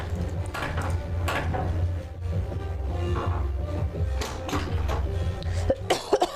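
Several short coughs break through a steady low hum during a relaxed evening chat stream, with faint clinks of dishes and cutlery in the background.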